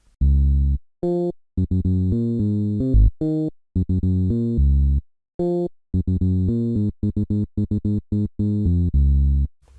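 A programmed sebene guitar-like riff made in FL Studio plays in a choppy run of short plucked notes and brief rests, its velocity rising toward the end, loud and alone.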